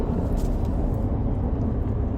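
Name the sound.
truck driving, interior road noise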